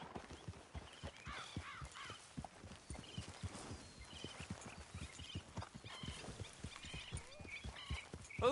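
Ridden horses clip-clop along at a walk in Red Dead Redemption 2, a steady run of hoof knocks close by with faint bird calls and other game sounds in the background.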